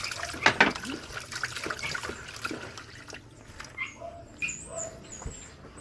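Water trickles and drips steadily nearby, with small splashes and a few faint chirps in the background.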